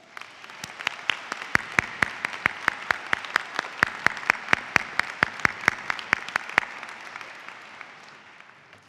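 Commencement audience applauding in a hall: dense, steady clapping from many hands for about seven seconds, with sharp individual claps standing out near the microphone, then thinning and fading toward the end.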